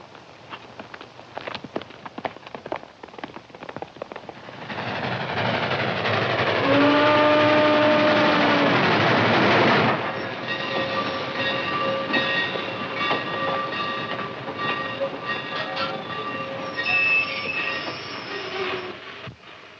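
A train arrives in a 1940s Utah setting, rumbling in with clattering wheels and a long, loud steam whistle blast in the middle. Wheels squeal in sustained metallic tones as it slows, and the sound stays close throughout.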